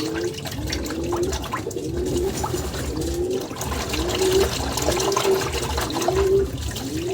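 Racing pigeons splash and get bathed in water mixed with medicine while their soft repeated cooing sounds in short rising phrases over the continuous watery wash, close by.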